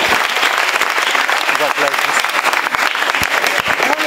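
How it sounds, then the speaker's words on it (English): A crowd at a Harlequins community event gives a loud, sustained round of applause for Mark, named Community Player of the Year. Many hands clap close and continuously, with voices mingled in the crowd noise. "massive round of applause to Mark"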